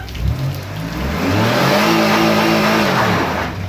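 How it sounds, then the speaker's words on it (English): A car engine revs hard while out of gear, its pitch climbing and then holding at a loud, sustained roar until gear engagement, with no talking over it. "put it in neutral and rev it up like that and then slam it in drive"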